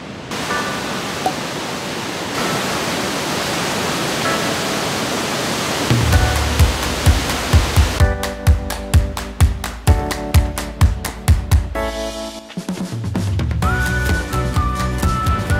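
Athabasca Falls in British Columbia roars as a loud, steady rush of broadband noise, then gives way to rhythmic beats and music.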